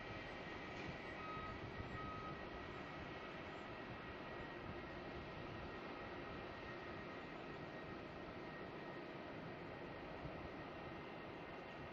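A Boeing 737 rolls down the runway at Melbourne Airport, its engines making a steady, distant broadband roar that holds evenly for the whole stretch with no voices.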